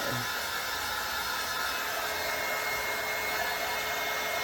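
A heat tool blows steadily and loudly, drying chalk paste soaked into fabric; a constant broadband whoosh runs alone from start to finish with no pauses.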